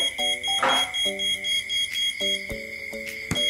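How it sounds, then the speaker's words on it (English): A burglar alarm built on an ESP32 with a vibration sensor beeps loudly in repeated electronic tone bursts, a steady pulsing pattern with a sharp click partway through and no one talking. "warning function is called, and the burglar alarm function is called"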